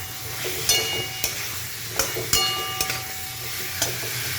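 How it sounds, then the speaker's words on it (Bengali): Small red-soil potatoes get stirred through a spiced curry with green chilli and Kashmiri chilli powder in a sizzling pan, with a soft frying hiss under several sharp scraping taps of the spoon against the pan at irregular intervals. "ভালো করে নেড়ে নেব।"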